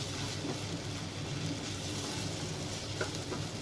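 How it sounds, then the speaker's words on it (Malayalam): Onion, tomato, garlic, ginger, clove, cinnamon and cardamom sautéing in a pan for a mint chicken dish, giving a steady, even sizzle and frying hiss throughout with no voices. "രണ്ട് മിനിറ്റ് നേരത്തെ ഒന്ന് വഴറ്റിയെടുക്കുക ഈ മിക്സ്"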